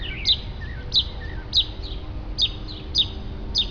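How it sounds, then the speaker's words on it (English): A small bird chirps outdoors in short, sharp, high notes about every half second, six calls in a steady rhythm over a faint background hum. "those birds would make great cell phone ringtones"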